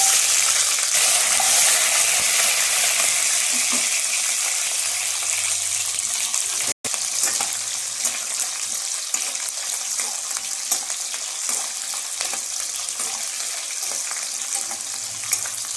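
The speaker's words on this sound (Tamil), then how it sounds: "கடுகு பொரிஞ்சிருச்சு. இப்போ நம்ம வெங்காயம் போட்டுக்கலாம்" Onions frying in hot oil after mustard seeds have popped, for a mixed vegetable curry, making a loud, steady, close sizzle with light stirring and a single sharp click midway.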